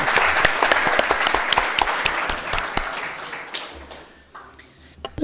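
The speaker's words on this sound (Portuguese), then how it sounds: "um aplauso para todos aí, isso aí, da diretoria" Applause for the board members at the close of an ordinary council session: sharp, fairly loud clapping with distinct individual claps that gradually thins and fades out, ending in quieter room sounds.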